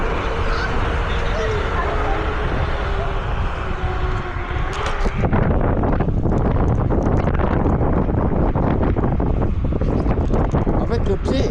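Wind roars across the microphone while riding a Kukirin G2 Master electric scooter at night, a loud, continuous low buffeting rush that turns rougher and choppier midway, with a voice partly buried beneath it.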